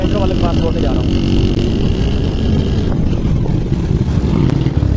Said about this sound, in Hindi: उनकी जो मोटरसाइकिल है ना वो मैं आगे पेंचर वाले के पास छोड़ने जा रहा हूँ